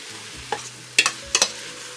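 Shallots and garlic being stir-fried over lowered heat for homemade tomato sauce: soft sizzling under a handful of distinct spatula scrapes at uneven intervals.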